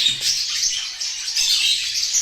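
A Texas budgerigar chirps and chatters continuously, a dense stream of close, bright, warbling calls lasting the whole moment, likely with other budgies and lovebirds nearby.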